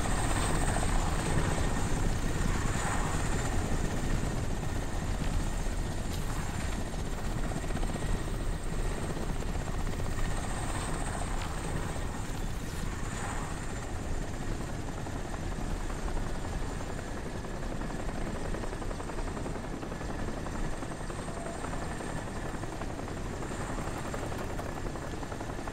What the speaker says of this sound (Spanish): A ver si somos capaces de librarnos de los dos putos helicópteros estos que tenemos por aquí dando por culo.